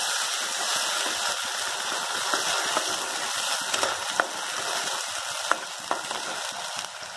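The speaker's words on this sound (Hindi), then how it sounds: "फ्राई कीजिए इसे चला चला के" Tomato, ginger and green chili paste frying in a pan while being stirred, a steady sizzle with occasional scraping clicks of the spoon, close and continuous without talk.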